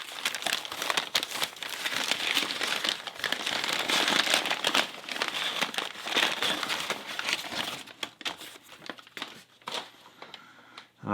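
Plastic packaging of a Paclock 200A padlock crinkling and rustling up close as it is torn open, a dense steady crackle that thins into scattered crinkles toward the end.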